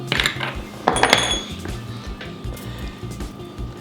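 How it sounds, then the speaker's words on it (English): Kitchen fork scraping and clinking in a bowl while crushing fresh herbs, garlic, salt and pepper into a dip paste: a few sharp metallic clicks and scrapes up close, then softer repeated scraping. "we're just going to give it a crush with a fork"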